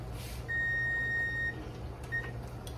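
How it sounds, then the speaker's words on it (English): A kitchen timer sounds during okra canning: one long electronic beep followed by a shorter second beep, clear over a low steady hum of boiling pots in the kitchen. "Here's my timer for my okra."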